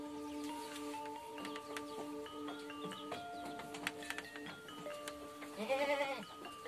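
Jawa Randu goats in a full pen bleat repeatedly, several overlapping wavering calls near and farther off. A louder, quavering bleat comes toward the end, with faint pen noise underneath.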